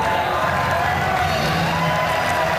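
Wrestling crowd at an FWA British Uprising show in the United Kingdom, a dense, continuous roar of cheering and chanting voices that fills the whole stretch at steady loudness.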